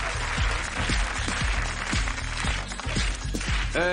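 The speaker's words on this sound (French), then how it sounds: "Je vous demande d'applaudir Miss France, s'il vous plaît." Audience applause for Miss France on a French TV entertainment show, steady clapping under a loud rhythmic music beat with thumping bass pulses.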